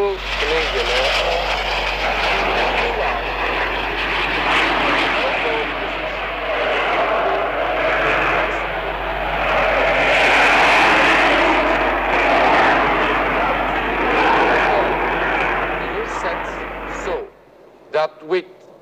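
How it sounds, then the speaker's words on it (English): A Royal Canadian Air Force target aircraft flies overhead, its engine a loud, sustained broadband roar that swells and holds for about seventeen seconds, then cuts off abruptly, followed by a couple of brief faint clicks. "a target aircraft of the Royal Canadian Air Force"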